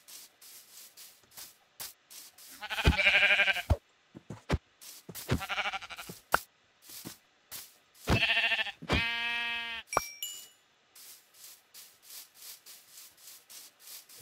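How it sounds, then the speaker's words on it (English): Sheep bleat in the Minecraft video game, several distinct wavering cries spaced across the clip between steady rhythmic footstep-like ticks, fairly quiet overall. "Ah, good, some sheep."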